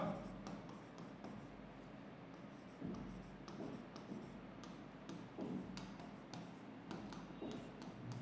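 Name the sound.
writing by hand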